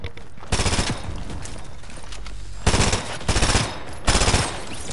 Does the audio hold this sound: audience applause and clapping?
no